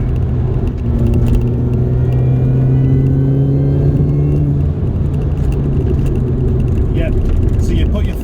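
A Mini Cooper S hatchback engine drones and climbs in pitch as it accelerates in third gear, a steady close rumble filling the whole stretch.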